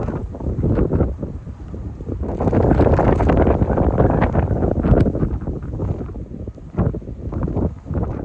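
Heavy wind roars across the microphone while fishing, in loud, sustained gusts, peaking in the middle and briefly easing toward the end.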